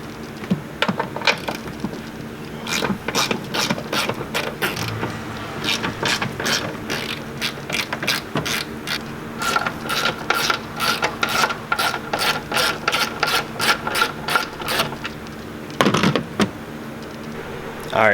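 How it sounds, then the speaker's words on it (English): A hand ratchet loosening the 14 mm strut-top nuts on a Subaru Crosstrek during a lift kit install, giving loud, close, rapid clicking runs that pause briefly between bursts. "let's go get those 14 nuts off"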